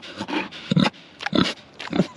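A homestead pig grunts and snorts up close in a string of short, rough bursts with brief pauses between them, loud and unaccompanied by talk.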